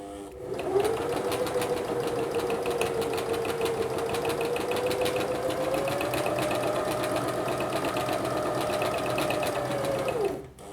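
An electric sewing machine runs a continuous fast stitch along a fabric double hem, a steady close mechanical whir with rapid needle clatter that starts and stops cleanly.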